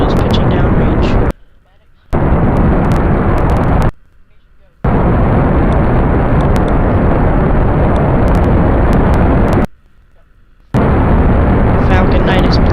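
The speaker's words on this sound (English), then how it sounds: "Falcon 9 is blasting downrange." SpaceX Falcon 9 rocket engines roaring during ascent after liftoff from the launch pad, a loud, dense, crackling rumble that fills everything, broken by a few abrupt brief dropouts and a commentator's voice.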